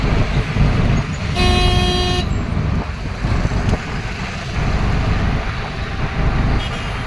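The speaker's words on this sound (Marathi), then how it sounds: "मोठ्याल्या मोठ्याल्या गाड्या जातात ह्या रोडला" Large trucks and cars roll past on a busy road in Surat at night, a steady loud rumble of traffic with a brief multi-tone horn blast near the start.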